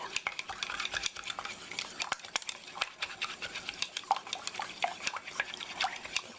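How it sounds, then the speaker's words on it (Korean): Beaten egg and an equal amount of cold water stirred in a bowl for steamed egg custard, a quick, steady run of utensil clinks and scrapes against the dish heard close up. "잘 섞어주세요."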